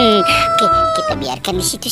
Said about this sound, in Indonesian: Wow, teman-teman, ini ada ayam berkokok.